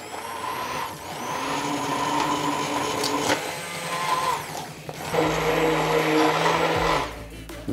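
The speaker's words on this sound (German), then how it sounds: "dann gehe ich mit meinem Zauberstab da einmal drüber und püriere die einmal runter" A handheld immersion blender purées Hokkaido pumpkin soup in a pot. Its loud, steady motor whine runs close up, dipping briefly near the start and again midway as the pitch shifts, with no talking.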